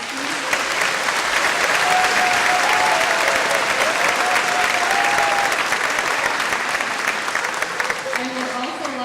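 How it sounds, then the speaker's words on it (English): An audience at a 2014 school promotion ceremony applauds an orchestra and chorus. Dense, steady applause fills the room for several seconds, with faint voices mixed in. "Audience, if we could give them another round of applause, please."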